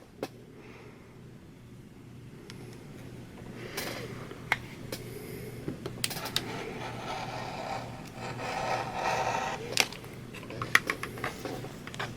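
Fabric pieces for a four-patch quilt block are cut by hand, giving faint, quiet scraping and rubbing strokes with a few small clicks and taps scattered throughout.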